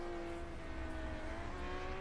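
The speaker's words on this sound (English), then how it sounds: "Okay, I think there was a car on the track." A race car in Assetto Corsa running the Interlagos circuit, its engine a steady, faint droning whine that holds a constant pitch under a wash of background noise.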